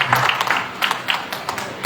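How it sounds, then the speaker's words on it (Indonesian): Hands clap at an Indonesian Christian gathering, a short stretch of quick, irregular claps from a small group, close and moderately loud. "Ya, tepuk tangan dulu."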